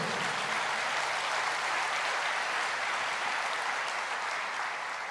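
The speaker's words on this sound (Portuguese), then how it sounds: "Pode aplaudir o Senhor." A church congregation applauds in a dense, even wash of clapping that holds steady and fairly loud for several seconds with no voices on top.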